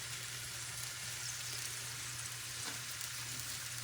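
Garlic roasts on an indoor grill with a steady, low, continuous sizzle and crackle, quiet and unbroken throughout, with no talking.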